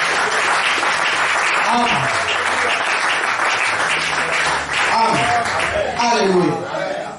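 A church congregation at a French-language worship service applauding loudly and continuously, with scattered voices and a chuckle mixed into the dense clapping.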